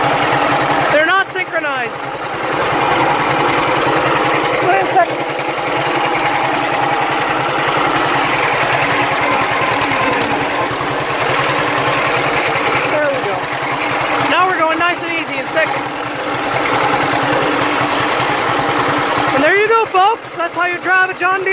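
A John Deere H tractor engine runs steadily throughout, a continuous mid-level drone with speech-like tonal sweeps and voices briefly rising over it.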